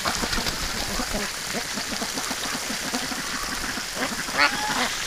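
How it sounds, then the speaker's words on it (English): A group of wintering ducks quacks steadily in the snow, with repeated nasal calls overlapping at close range over a constant background hiss. A sharper honk stands out near the end. "Oh, there's a dirty duck."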